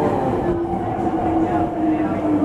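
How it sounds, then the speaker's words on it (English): A train on the Arashiyama line rides toward downtown Kyoto, heard from inside as a steady loud rumble with a sustained whining tone and faint rhythmic wheel clatter. "Taking the train now"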